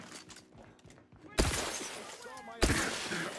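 A turret in a video game fires two loud bursts, each a sudden blast with ringing, crackling decay, after a quieter stretch of low game sounds.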